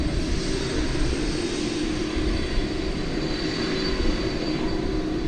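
An airplane at DFW Airport produces a steady, loud, broadband engine roar that holds constant throughout without voices.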